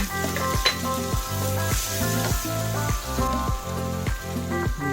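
Boiled mussel meat goes into a frying seafood pasta sauce with tomato and kangkong, bringing loud close sizzling and repeated rhythmic scrapes and clanks of a utensil stirring in the pan, with no talking.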